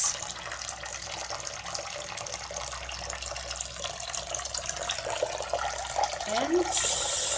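A repaired sink faucet pours a continuous, fairly loud stream of water into the basin, with a brief squeak or tap turn near the end and faint background sounds.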